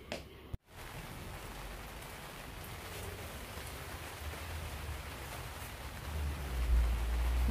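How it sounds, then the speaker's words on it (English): Rain falling on a gazebo, a soft, steady patter and hiss of drops on the covering, fairly quiet, after a brief sharp knock at the start, with a low rumble swelling toward the end. "with the rain that is here"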